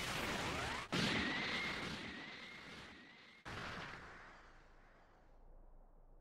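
A Special Beam Cannon blast from the Dragon Ball Sparking Zero video game fires as a loud, sustained energy roar with a rising whine, broken by two abrupt sharp cuts before it fades out.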